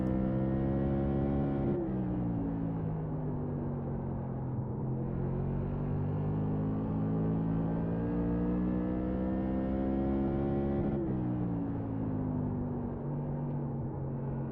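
A race car engine drones loudly and continuously during a racing session, its pitch rising and dropping as gears shift, with tire noise underneath and no talking.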